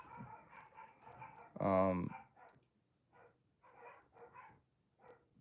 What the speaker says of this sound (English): I'm hoping those puppies kind of mellow out.